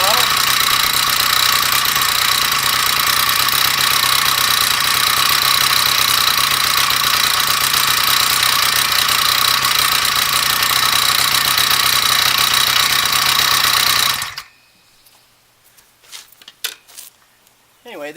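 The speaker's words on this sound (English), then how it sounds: "Idles pretty well." A steady, loud engine idle drones on without letup for about fourteen seconds, then cuts off abruptly, leaving faint scattered clicks and knocks.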